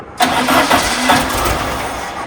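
A VW Baja Bug engine fires up after the carburetor is primed with gasoline, a sudden loud catch into rough, uneven sputtering and revving near the listener, settling toward a shaky idle.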